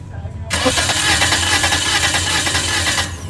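A Toyota Vios dual VVT-i engine cranks on the starter during a cylinder compression test, a steady close mechanical churn beginning abruptly after a brief quiet moment and running about three seconds before stopping.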